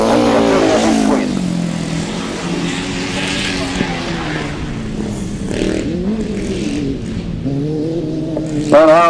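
Grasstrack racing motorcycles at a championship meeting, engines held at high revs as they sweep wide through a turn, a loud, continuous drone that rises and falls under an announcer's commentary.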